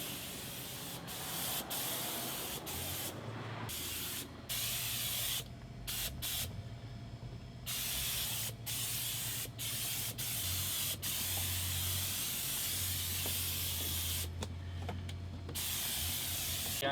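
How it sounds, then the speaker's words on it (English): Halt disinfectant sprayed from a spray bottle onto touched surfaces, repeated hissing bursts of varying length with short pauses between them, fairly close. "Leave it on here for 10 minutes, spray it down"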